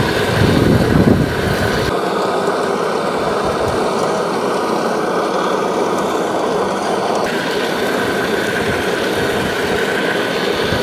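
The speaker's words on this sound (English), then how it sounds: "Put it down to the Scarifier level and do a pass here" A lawn scarifier making a dethatching pass over a spongy lawn, its engine droning loud and steady alongside a continuous rumbling rake noise that shifts tone partway through, no talking.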